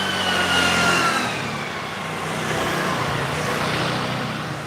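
Road traffic in Taichung, Taiwan, rushes past nearby as a loud, steady broadband roar of car engines and tires, with one vehicle's whine swelling and fading early on, then a continuous wash of passing vehicles.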